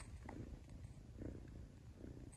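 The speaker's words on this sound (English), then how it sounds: "you can hear purring so loud" Rescued kitten purring steadily and softly up close, a continuous low rhythmic rumble with no voices.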